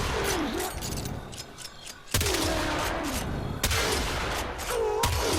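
A Corinth shotgun fires in Warframe, three sharp, loud blasts spaced over a second apart, each followed by ringing tails and clatter, with a voice talking over the action.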